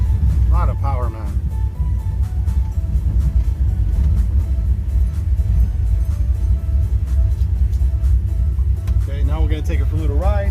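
A 1955 Chevy Bel Air with a 502 V8 and four-speed rumbles steadily and loud from close by, a deep continuous drone with someone speaking briefly over it at the start and end.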